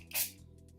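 A single short hiss of a makeup finishing spray bottle, one quick pump of mist up close, followed by quiet.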